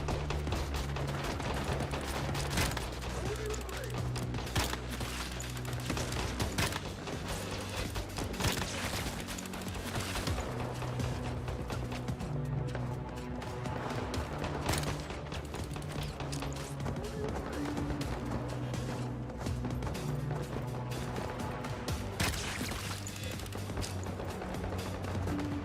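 Bursts of gunfire from the video game Once Human crackle through a dense, busy game soundtrack with steady rumbling background noise, the shots blending into the mix.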